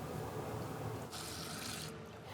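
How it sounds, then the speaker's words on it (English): Water runs steadily from a kitchen tap while suet dough is being mixed, a soft continuous hiss that briefly grows brighter and stronger midway, with no talk. "I'm just adding a little drop of water at the time to make a soft dough"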